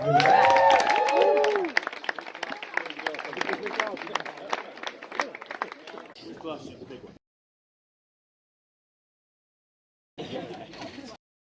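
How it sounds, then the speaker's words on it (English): Wedding guests applaud for Matt Gales' speech at a celebration at Borgo di Castelvecchio, a dense wash of clapping with some cheering and crowd babble that tapers off, then a brief burst of clapping again near the end. "Let's put our hands together now and clap for Matt Gales."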